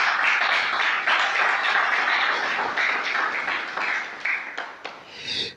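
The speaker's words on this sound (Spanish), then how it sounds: "Dale un aplauso al Señor" A church congregation claps in a loud, dense burst of applause that holds steady, then thins into scattered claps and a few raised voices before fading out.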